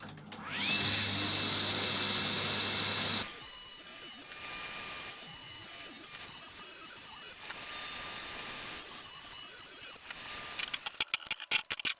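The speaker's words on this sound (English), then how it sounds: "repetitive narrow rips is just about the only thing that I do use a table saw for still" A table saw spins up with a loud steady whine for a few seconds, ripping narrow wood strips, then quieter cutting and workshop noise follow, ending in a burst of sharp knocks.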